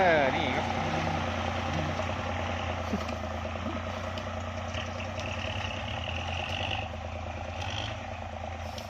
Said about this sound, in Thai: เสียงมันเครื่องสูบเดียวครับผม